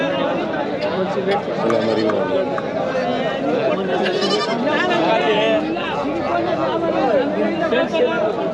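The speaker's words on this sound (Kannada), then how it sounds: "ಮರಳುವಾಡಿ ಶುಕ್ರವಾರ ಕುರಿ ಸಂತೆಗೆ ಬಂದಿದ್ದೀನಿ" Sheep and goats bleat repeatedly amid a busy outdoor crowd at the Friday livestock market in Maralvadi, Kanakapura, Karnataka, with many people chattering throughout.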